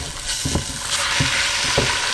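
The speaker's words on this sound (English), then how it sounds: "I just keep stirring and frying because I don't really want it to catch and burn anywhere." Loud, steady sizzle of lamb frying in a pan for a saag gosht curry, with a spoon scraping and stirring in a few regular knocks; no voices.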